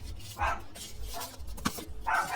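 Dogs bark and whimper in short bursts in a home setting, a few yips and barks spaced out over steady low background noise, moderately near.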